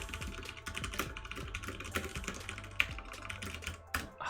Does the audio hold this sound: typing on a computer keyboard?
yes